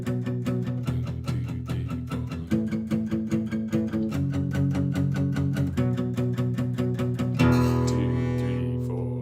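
A strummed guitar plays a chord progression in a steady rhythm, shifting chords every couple of seconds and ending on a ringing strum, with no talking.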